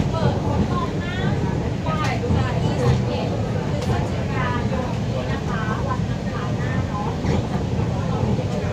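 A steady low rumble of the Pink Line monorail train running on its track between Nonthaburi and Mueang Thong Thani, with muffled talk over it throughout.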